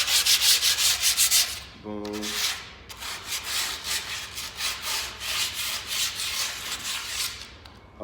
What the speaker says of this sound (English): It's the sanding down part.